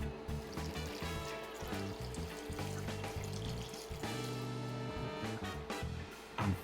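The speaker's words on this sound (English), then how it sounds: "Let's add some water." Water poured into a saucepan of about a pound of chopped pitted dates, a steady close trickle and splash running the whole time with continuous kitchen clatter beneath.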